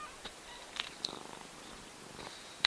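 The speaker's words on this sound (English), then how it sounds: "Can you hear her, like, purring? She purrs super loud." A cat purrs in a soft, steady drone throughout, with a few faint clicks and rustles nearby.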